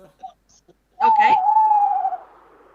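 A single tawny owl hoot in a forest, a loud, sustained quavering note heard close up after a brief sharp onset, with soft scattered sounds before it and no talking.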